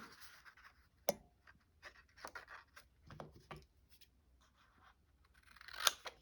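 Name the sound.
cutting with scissors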